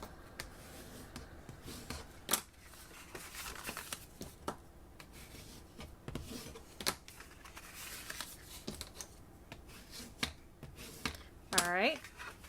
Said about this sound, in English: I'm just going to grab my bone folder so I can give these pieces a good crease